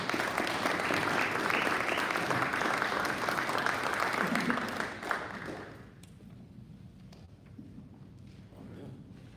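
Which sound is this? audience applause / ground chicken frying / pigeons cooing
audience applause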